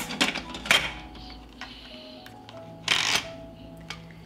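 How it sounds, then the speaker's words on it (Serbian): Metallic clanks and clicks of a pressure cooker lid being fitted and locked, a few sharp knocks spaced over several seconds, close by with a faint hum underneath. "Zatvaram ekspres lonac"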